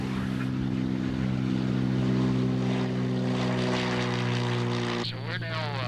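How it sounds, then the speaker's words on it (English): A small private propeller airplane flies over the Disneyland area, its engine giving a steady, loud droning hum with strong harmonics that shifts abruptly near the end. "I took up my airplane a while ago to see what that restrictive airspace really means."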